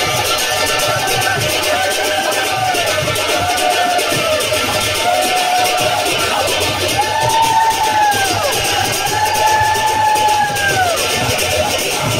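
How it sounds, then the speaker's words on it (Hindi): A dense crowd packs a temple during Janmashtami celebrations, a steady loud roar of many voices with occasional shouts and rising calls, continuous throughout without pause. "बहुत ही भिड़ होता मंदिर में"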